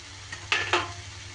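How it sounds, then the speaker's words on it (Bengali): Spoon scraping a frying pan as spice paste with coconut is stirred, two brief close clinks and scrapes over a soft steady background, no talk. "এইভাবে মশলাটা একটু এইভাবে নাড়িয়ে চাড়িয়ে নিয়ে কাঁচা গন্ধটা যাতে চলে যায়"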